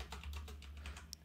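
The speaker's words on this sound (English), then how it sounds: "There is typing happening." A computer keyboard is typed on in a rapid, even run of close clicks lasting about a second over a low background hum, with no voices.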